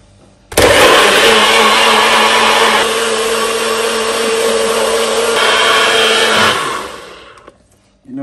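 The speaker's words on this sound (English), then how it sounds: "then I'll blend up this quick" A countertop blender whirs loud and steady for about six seconds, blending coconut milk and water for mango banana porridge, then winds down and stops.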